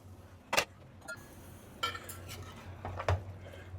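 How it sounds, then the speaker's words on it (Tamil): Cooked rice tipped into an Indus Valley biryani pot while making Vaniyambadi biryani, heard as a few sharp clanks of metal utensils against the pot with quieter scraping between them, close and alone. "ஸோ இந்த ரைஸை இப்போ இதில் போட்டுடலாம்"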